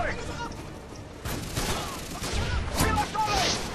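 Bursts of rapid gunfire in a Modern Warfare 2 online multiplayer match, shots and impacts clustered through the clip with a voice talking over the action.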